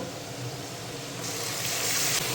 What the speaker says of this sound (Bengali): এখন আমি গ্রেট করে রাখা পেঁয়াজটা দিয়ে দেব